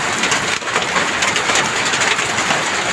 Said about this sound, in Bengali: প্রচন্ড শিলাবৃষ্টি পড়তেছে।